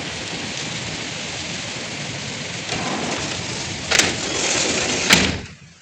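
Heavy rain pours outside a window under a darkened sky, a steady dense hiss throughout with two brief louder bursts near the end before it quickly drops away.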